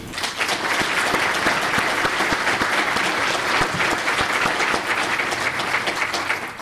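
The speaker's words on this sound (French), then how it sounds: "j'allais vous demander de les applaudir, c'est chose faite" An audience in a lecture hall gives a sustained, loud round of applause for two guest speakers at a public talk on democracy, the close, dense clapping continuing evenly throughout.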